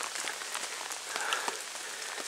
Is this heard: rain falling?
yes